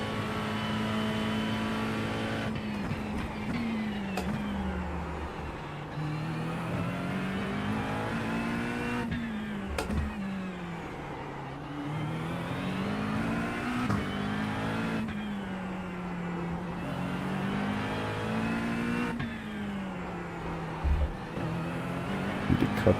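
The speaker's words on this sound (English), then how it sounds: "I'm like lighting up the tires on the exit of the hairpin." Race car engine in iRacing at Long Beach, droning steadily with rising and falling pitch sweeps as it revs and spins its tires out of the hairpin, loud and continuous for the whole stretch with no talk.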